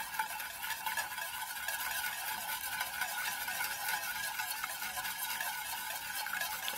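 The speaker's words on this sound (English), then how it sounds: "Get yourself a whisk and just whisk that through." A whisk stirring sweet and sour sauce in a pan for chicken, making a quiet, steady, rapid scraping and swishing with a faint bubbling underneath and no speech.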